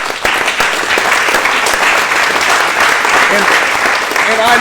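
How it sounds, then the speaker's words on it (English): A banquet crowd at a self-bow archery society event applauds its board members with loud, close, continuous clapping, and a voice and a few cheers rise near the end. "what a round of applause for those guys on this board"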